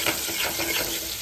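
Chilies dropped into hot oil with chopped garlic, bay leaf, cinnamon and cloves, frying in a steady close sizzle with stirring, a brief louder burst at the very end.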